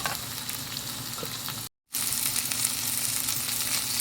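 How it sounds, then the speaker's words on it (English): Spicy turkey mince and onions frying in a pan, a steady close sizzle that runs throughout, with a brief stir and a momentary cut-out in the middle. "So let that cook for a while, like fry itself, before I add the chili and the salt."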